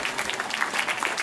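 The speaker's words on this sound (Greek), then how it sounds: "να δώσουμε ένα χειροκρότημα στον Δημήτρη για τη βοήθειά του" Applause from an audience at a dolphin show at the Attica Zoological Park, a steady wash of scattered hand claps at moderate distance, lasting about a second with no voices on top.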